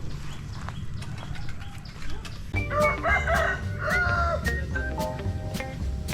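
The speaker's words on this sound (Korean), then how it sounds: "쟤는 왜 저기서 이렇게 꼬꼬댁거리고 있는 거야?" A rooster crows and clucks repeatedly from up high at a house-building site in Laos, over steady outdoor background noise, fairly close, with brief sharp clicks scattered throughout.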